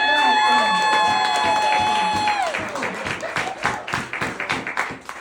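Comedy club audience at Durty Nelly's breaks into applause and cheering, dense clapping that gradually thins into scattered individual claps, with a sustained whistle-like tone fading early on.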